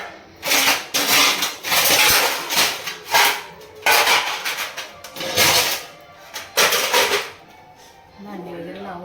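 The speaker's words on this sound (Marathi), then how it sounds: "भांडी वगैरे लावून घेतात." In a home kitchen, dishes, pans and a tawa are set into place, giving a string of loud, uneven clatters and clinks up close, with someone talking at times.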